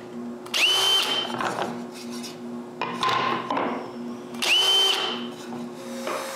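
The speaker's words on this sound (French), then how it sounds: "La dernière chose à faire avant d'appliquer le fini est de percer les trous des manches." A drill bores handle holes in the wooden backs of bellows, giving three short bursts of high, rising drill whine, each spinning up and down over a low motor hum, with clunks and handling noise between them.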